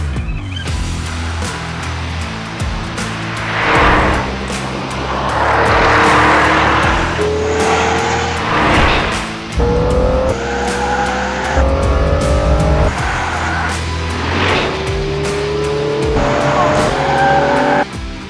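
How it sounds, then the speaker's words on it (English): An Aston Martin DBX 707 driven hard on a test track, engine roaring loudly and close with rising gear pulls, repeated tire squeal and skidding through corners, a voice talking over it. "Today you'll be driving the Aston Martin DBX 707 under the guidance of a former Formula 1 world champion, Damon Hill."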